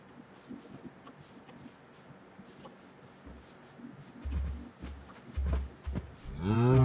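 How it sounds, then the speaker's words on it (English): A donkey in a video game gives a low braying call near the end. Before it, soft rhythmic low thumps and scuffling run under faint ambient game sound, with no speech. "Oh, there's a donkey."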